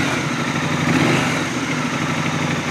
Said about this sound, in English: So that has a cold idle to it.